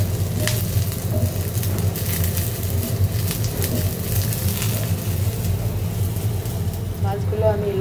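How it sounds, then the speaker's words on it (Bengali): Garlic and chillies frying in a pan give a steady, close sizzle over a low, continuous rumble, with a few faint clicks scattered through. "রসুন আর মরিচ ভেজে নিচ্ছি।"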